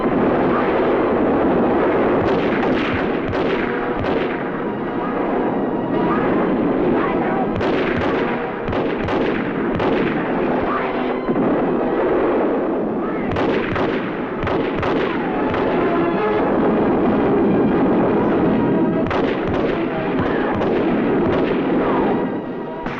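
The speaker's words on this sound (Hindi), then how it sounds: "उसके हुक्म पर सैनिकों ने अंधाधुंध गोलियां बरसानी शुरू कर दी" Soldiers firing indiscriminately in a loud, dense barrage of gunfire, with rapid overlapping shots and heavy booming blasts rolling on without letup for over twenty seconds.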